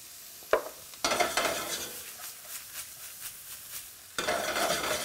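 Vegetables sauté in a pan to caramelize: a soft sizzle with stirring scrapes and a couple of sharp utensil knocks, close and quiet, with no talk.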